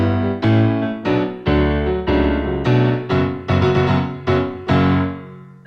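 Piano plays opening fanfare chords, a series of about ten full, rhythmic chord strikes with a low bass line, each attack ringing briefly into the next, loud and close with no voices.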